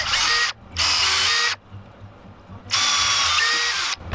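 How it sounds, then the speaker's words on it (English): A drill bit boring into the lead of a big wooden RoadRunner jig head, three loud whirring bursts with quiet gaps between them, close and without talk. "Once you get a certain depth into lead with a drill bit, it just starts grabbing it and smushing it to the surface of the hole."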